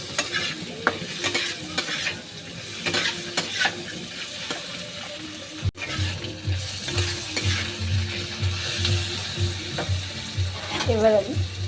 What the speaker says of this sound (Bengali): এবার আমি পটল আর আলু ভাজাটা দিয়ে দেবো।